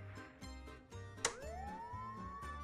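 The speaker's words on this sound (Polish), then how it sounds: "Wyłącz syrenę" A police siren in the video game Contraband Police rises in a single upward wail over a low, steady engine hum, with no voices.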